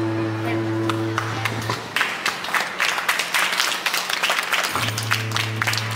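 An audience at a Sri Sita Rama wedding festival in a hall gives a round of applause, with irregular claps swelling for a few seconds between sustained tonal music or drone.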